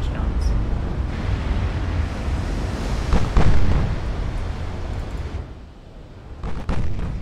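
Naval battle in Ultimate Admiral Dreadnoughts with 10-inch guns firing, a dense roaring rumble of cannon blasts and explosions over sea and wind ambience, with a louder burst midway.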